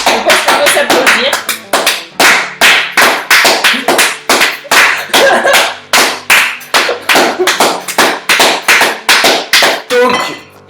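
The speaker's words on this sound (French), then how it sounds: "Je pense qu'on peut s'applaudir" A small group of people clap in a rough, uneven rhythm for about ten seconds at home after baking brownies, the claps close and loud with slightly scattered timing.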